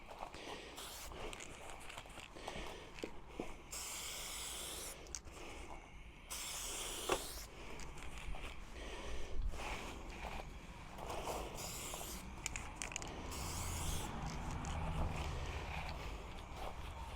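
A spray can lays etching primer onto a 1/6 scale Armortek M26 Pershing RC tank, giving several short hissing bursts spaced apart over a quiet, shuffling background.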